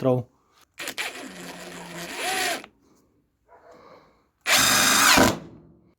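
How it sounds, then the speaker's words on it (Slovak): Parkside impact wrench driving a screw at 120 Nm, two short, loud bursts of whirring and hammering about a second and a half and under a second long, separated by quiet handling sounds, close up. "budem pokračovať rázovým úťahovákom na minimálnej sile 120 Nm"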